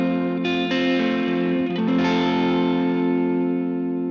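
A Mexican Fender Stratocaster Deluxe electric guitar on its fifth pickup position rings out a full sustained chord, struck again twice early on. The notes are rich and slightly gritty and hang on steadily until the end.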